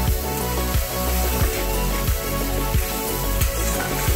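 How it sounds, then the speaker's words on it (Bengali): Shrimp frying in ghee in a wok, a loud continuous close sizzle with regular scraping stirs every half second or so, no voices. "কত সুন্দর চিংড়িটা ভাজা হয়েছে, সুন্দর ভাজা হয়েছে, আর একটু ভাজা হবে"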